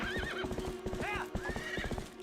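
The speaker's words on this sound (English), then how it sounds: "Horse is getting mad." A horse whinnies several times in Zelda Twilight Princess, quavering neighs over a steady patter of hoof clip-clops, with a constant game hum underneath.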